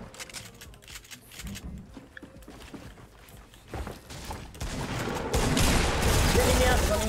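Gunfire in a video game: scattered shots and bursts that grow denser and louder toward the end, heard under players talking.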